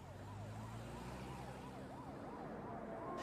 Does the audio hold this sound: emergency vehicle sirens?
yes